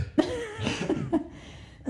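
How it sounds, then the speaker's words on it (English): Several short, sharp coughs in quick bursts, close to the listener, with brief pauses between them and a final cough at the end. "that's probably why we're coughing"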